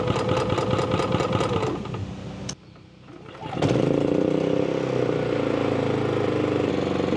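A portable emergency-power generator with a built-in choke and idle control starts at the push of a button. It runs with a loud, steady mechanical drone, cuts out briefly, then restarts and settles into a constant hum. No one speaks.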